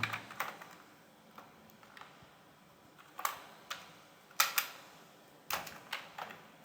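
Computer keyboard typing in short irregular bursts of sharp, close key clicks with pauses between, no talking.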